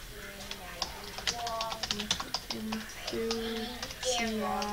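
Rapid computer-keyboard typing while playing Minecraft, a steady run of light clicks going on under a person talking over it.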